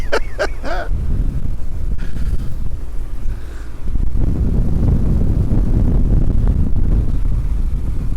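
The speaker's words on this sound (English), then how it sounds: "it's quite windy out here now" Strong wind rumbles against the microphone in a continuous low roar, swelling louder in the second half, with a brief chirp near the start.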